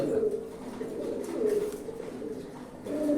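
Pigeons kept in a loft coo in low, repeated rolling calls, close and fairly soft, overlapping in a continuous murmur.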